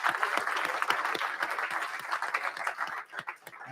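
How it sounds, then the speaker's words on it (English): An audience at a panel event at Capital Factory in downtown Austin breaks into dense, sustained applause with sharp individual claps, which thins out and fades toward the end. "Give him a round of applause, Kyle Teamy and the panelists."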